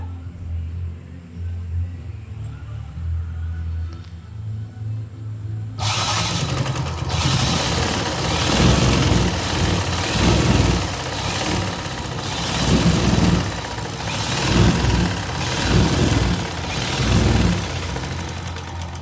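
A sewing machine stitches a blouse side seam. After several quiet seconds it starts abruptly into a loud, continuous motorized whir with a steady rhythmic pulsing that runs to the end.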